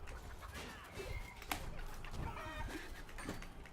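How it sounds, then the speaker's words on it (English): A chicken clucks in the medieval combat video game Chivalry 2, a run of short, close clucks and squawks over a busy background of battle noise, with no talking. "Somebody's trolling with the chicken."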